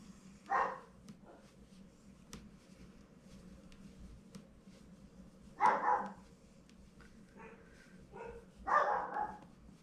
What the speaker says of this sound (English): Oh, I apologize if you can hear my dogs barking.